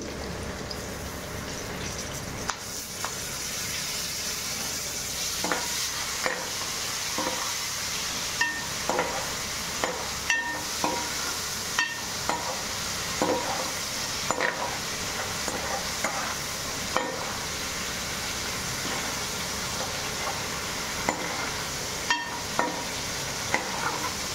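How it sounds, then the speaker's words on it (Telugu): Tomato pieces fry with onions and seasoning in a pan under a soft, steady sizzle, broken by repeated clinks and scrapes from stirring that recur every second or two. "తాలింపు గింజలు, ఉల్లిపాయ ముక్కలు బాగా మగ్గిన తర్వాత టమాటా ముక్కలు వేసుకోవాలి"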